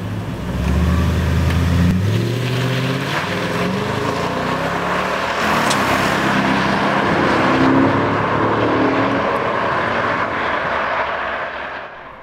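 Stock 2017 Toyota Tundra with a 5.7 liter flex fuel V8 accelerates hard from 0 to 60 mph, engine revs rising through several gear changes, loud and close, then fading slightly at the end.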